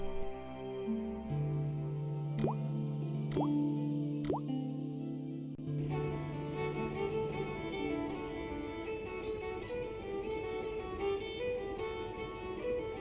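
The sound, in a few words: dripping faucet in video game Broken Sword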